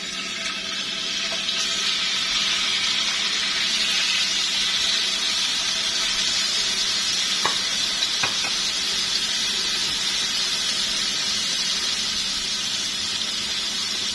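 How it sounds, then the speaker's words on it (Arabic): Chicken pieces frying in a very hot pan give a steady, close broadband sizzle and hiss that runs unbroken throughout, with a couple of faint clicks midway and no talking. "دلوقتي الطاسه سخنت خالص معايا، هنزل بقى بالفراخ كده"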